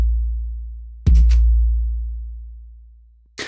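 A low, steady resonance hum from Ableton's Drum Buss, tuned to a kick drum. A single punchy kick lands about a second in, then the deep tone rings on and slowly fades, with another hit starting at the very end.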